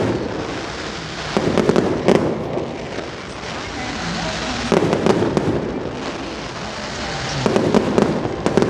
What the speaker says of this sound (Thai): ก็จะมีจุดพลุประกอบ